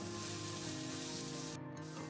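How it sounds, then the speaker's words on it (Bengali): Spice paste and ground spices with fried onions cook in oil for an egg curry, making a soft, continuous sizzle that holds steady throughout with no talking. "ভালোভাবে সব মশলা নেড়ে চেড়ে মিশিয়ে নেব এবং কষতে দেব যতক্ষণ না মশলা থেকে তেল বেরোয় ততক্ষণ।"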